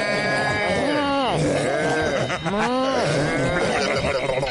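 A human voice imitates a cow swimming through the ocean, with drawn-out, warbling moo-like bleats that rise and fall over several seconds, close and loud over a noisy background.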